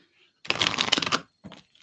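A deck of tarot cards is shuffled close by in a fast riffling burst lasting under a second, followed by a couple of softer short card rustles.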